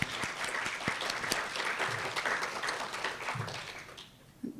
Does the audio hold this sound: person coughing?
no